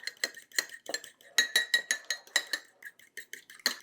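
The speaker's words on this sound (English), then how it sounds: "We're going to whisk this up really good till it's nice and frothy" Whisk beating an egg in a dish clicks and taps rapidly against the bowl in quick irregular strokes, close and crisp, with no talking.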